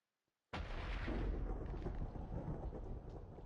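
After half a second of silence, a loud thunderclap bursts in a Minecraft mountain map, its deep booming roll holding strong and fading only gradually over the next few seconds, with no voices.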